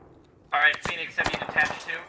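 A short cluster of sharp gunshots in the military shooter Squad, with an MRAP turret nearby, several quick cracks in an uneven burst, close and fairly loud, while a voice talks over it.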